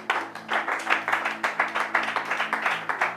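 A church congregation claps in a brisk, steady rhythm, close and fairly loud, with faint voices underneath.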